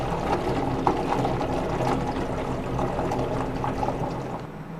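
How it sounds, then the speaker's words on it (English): Water pours steadily into a container for washing a corroded car battery, a continuous splashing gurgle at close range with a few brief clinks and no voices. "Step 1, fill a container up with water."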